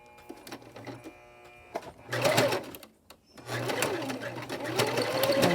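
A sewing machine stitches a small spring-themed fabric mug rug in two bursts of fast, rattling needle motion separated by a brief stop, near and clear over a quiet room.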